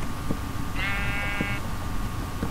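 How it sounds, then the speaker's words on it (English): A single Minecraft sheep bleats from the video game, a clear mid-length wavering call that stands out over steady background noise. "Hey, you dumb sheep! Come here!"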